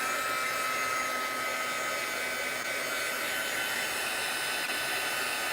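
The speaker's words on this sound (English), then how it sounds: "I'm going to dry this one." A hair dryer blowing on hair, a loud, steady, unbroken rushing whine that holds an even level from start to finish with no pauses.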